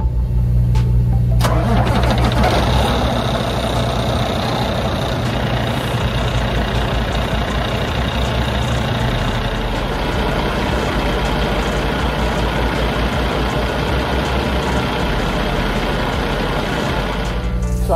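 A car engine cranks and catches, then settles into a steady idle that runs loud and close for the rest of the clip, checked after a coolant hose replacement, with no talk.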